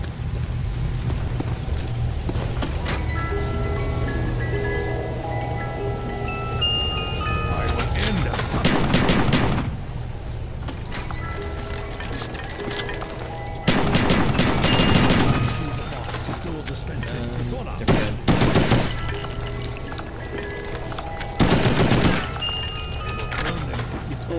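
Rapid bursts of gunfire in the zombie survival video game Black Ops, on the Kino Der Toten map, loud and sustained throughout with several denser volleys, over a constant game background.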